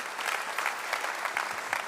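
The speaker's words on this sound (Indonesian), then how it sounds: "Tepuk tangan bagi Tuhan." A church congregation claps together during a sermon, giving dense, steady applause throughout the short stretch with small swells in intensity and no voices on top.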